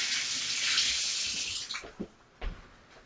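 A kitchen tap runs loudly as hands are washed, a strong steady stream for over a second before it is shut off, followed by a few soft clunks and splashes nearby.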